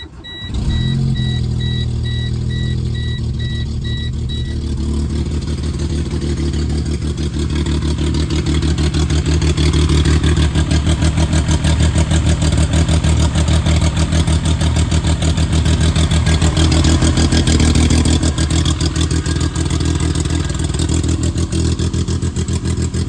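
A Geo Metro car engine, running roughly, idles at a high speed with a steady, loud mechanical drone that holds constant throughout.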